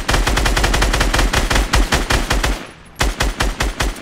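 Rapid automatic gunfire in Fortnite as a player shoots down an enemy brick fort: loud, close bursts of evenly spaced shots that break briefly before the rapid firing resumes.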